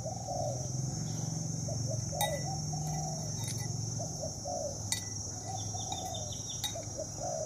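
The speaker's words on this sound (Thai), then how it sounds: "เสียงเจ้าโชคดีก็ขันอยู่ตลอดนะครับพี่น้องครับ" A big-voiced captive bird crows and calls repeatedly over steady outdoor ambience, with other birds cooing and chirping around it and insects buzzing faintly in the background.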